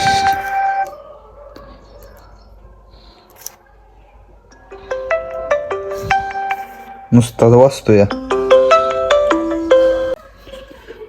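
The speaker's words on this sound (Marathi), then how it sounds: "मोबाईलवर भावानं फोन आलाय" A mobile phone rings with an incoming call, a melodic electronic ringtone of repeated tonal phrases, nearby and fairly loud, with a brief spoken remark and pauses between bursts.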